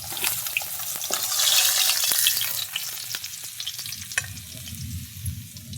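Fish fries in a kadhai with a loud, roaring sizzle that swells midway and then eases. Quick crackles and spatters run through it and a low rumble sits underneath, with no voices.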